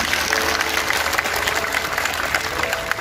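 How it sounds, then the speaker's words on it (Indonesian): A church congregation at an evening service in Kuching, Sarawak claps in loud, dense, continuous applause filling the hall, with faint voices mixed in. "Ya, kasih tepuk tangan untuk Tuhan sekali lagi."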